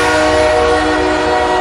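A train from a 1963 horror film trailer, a loud, steady, sustained horn-like drone with a rumbling rail undertone throughout.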